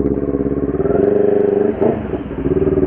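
A Kawasaki Ninja 400 motorcycle engine idles with a close, loud pulsing throb, then revs up and drops back, rising into a steadier drone before settling to idle again.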